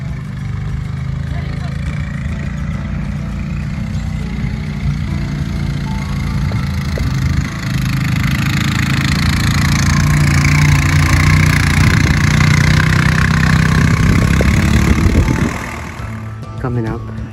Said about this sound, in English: So there's the guy with his quad bike.